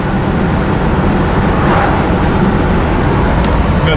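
A 1964 Oldsmobile Cutlass 442 convertible with a 4-speed cruises down the road. The engine and road rumble form a dense, continuous low roar with wind noise throughout, and nobody speaks.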